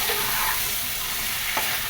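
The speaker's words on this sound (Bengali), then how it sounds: "মাছ আর আলু আমার কষানো হয়ে গেছে।" Fish and potato pieces sauté in a pan, giving a steady broadband sizzle and frying hiss with a brief stirring scrape near the end, moderately quiet and without talk.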